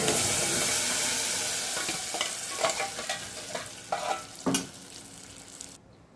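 Tempering spices fry in hot oil for hotel-style sambar, a close, steady sizzle with several scraping stirs of a spoon in the pan, fading out at the end.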